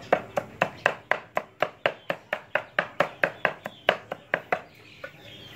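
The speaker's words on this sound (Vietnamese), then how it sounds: "đây băm ra chuối cho gà đấy" A blade chops banana plant stalk for chicken feed in a steady rhythm of about twenty sharp, close thuds over several seconds, slowing and trailing off at the end.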